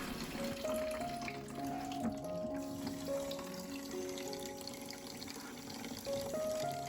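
Tap water runs and splashes over leaves being rinsed in a colander in a sink, a faint, continuous pouring sound that shifts slightly as the leaves are moved.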